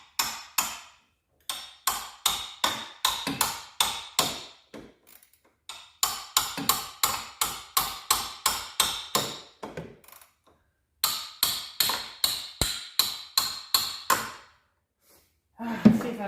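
Repeated hammer blows on a seized part of a 1978 Honda Civic that had sat for 26 years, already soaked in penetrating oil: sharp metallic strikes in fast, steady bursts with brief pauses between runs, close and loud.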